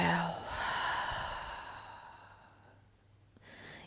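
Yoga breathing: a long audible exhale that trails off softly, followed by a faint intake, close and quiet against a calm silent room.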